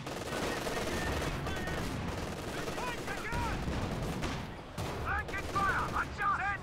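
Gunfire rattles in a WWII real-time strategy match as tanks and infantry clash, including a Panzer IV hit by a 6-pounder shot. Bursts of shots and distant booms sit under a commentator's voice and in-game chatter.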